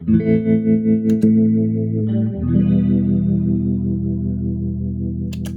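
Electric guitar through a modulation effect with sounds selected by a Morningstar MC3 controller, a few picked notes giving way to a long shimmering sustained chord with chorus-like wavering.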